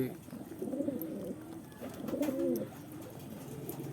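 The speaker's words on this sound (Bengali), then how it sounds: "এটা বুনো কবুতর" Two bursts of low, rolling cooing from a wild pigeon a moment apart, fairly close, over quiet background noise.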